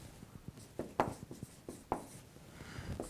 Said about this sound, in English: Write that correctly here.